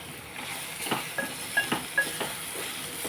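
A spoon stirs carrot curry in a pan, giving a series of soft scraping strokes and light metallic clinks in an irregular rhythm, close up over a faint cooking hiss, with no voices.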